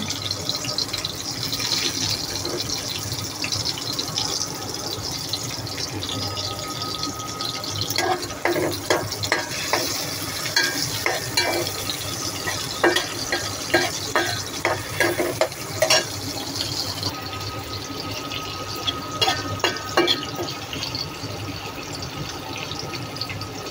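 Onions and tomatoes tumble into a hot pan and fry, a steady sizzle with repeated scraping and stirring clatters, close and fairly quiet, with no talking.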